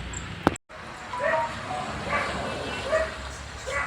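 A dog barks a few times at a distance, short repeated yaps over a quiet outdoor background after a brief knock.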